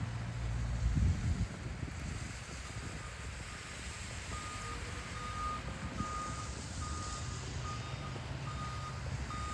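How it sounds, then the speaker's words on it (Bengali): A snow-clearing machine reversing in a snowy parking lot, its backup alarm beeping in a steady, evenly spaced series from some distance, over low engine rumble and wind noise. "এইরকম মেশিন দিয়ে পার্কিং লটগুলো পরিষ্কার করা হয়"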